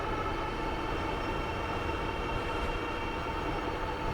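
Ariel Rider e-bike riding on throttle only, a steady broadband motor and rolling drone with wind noise, constant and fairly loud, no speech.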